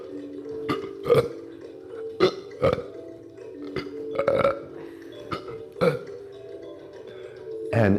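Repeated burps come from a person doing a qigong breathing exercise, a string of short close belches at an irregular rhythm with a longer one at the end.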